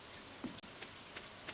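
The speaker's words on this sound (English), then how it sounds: "Oh, that's right. It's raining." Rain falls in the Stardew Valley video game as a soft, steady hiss with a few light patters. It is quiet and plays alone, with no voices.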